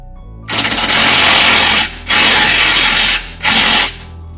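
A power tool snugs down a bolt on a Ford Fiesta lower control arm, with three loud, close bursts of motor whine, the first longest, separated by short pauses.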